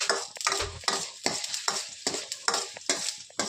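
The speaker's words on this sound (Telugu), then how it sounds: "కొద్దిగా కరివేపాకు కూడా బాగా వేగాలి." Curry leaves fry on low heat in a pan with mustard seeds. Repeated close scraping stir strokes sound over a soft, continuous sizzle, and nobody speaks.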